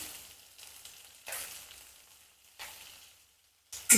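Onion, ginger, garlic and green chillies frying in a pan for masala puri, a soft sizzle with a few louder stirring bursts, fading between them, no voices.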